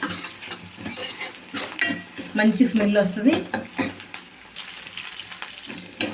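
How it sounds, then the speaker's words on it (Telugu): Spices for a tempering sizzle in hot oil for a leafy-greens dal, with crackling bursts and stirring scrapes that swell in the middle, close by, while a person speaks briefly over it. "చూడండి తాలింపు అయితే బాగా వేగిందండి"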